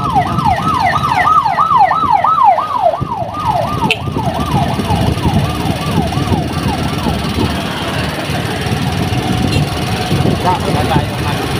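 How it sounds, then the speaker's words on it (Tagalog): An ambulance siren wails in rising and falling sweeps through street traffic, loud at first and then fading as it moves away, under steady engine rumble from a tricycle. "merong ambulansya."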